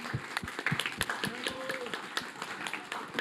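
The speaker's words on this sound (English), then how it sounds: "let's make a huge applause for this team who really pulled it off" Quiet, scattered clapping from a modest audience at the Ukrainian Startup Awards, with sharp individual hand claps in an uneven rhythm, somewhat distant and sustained.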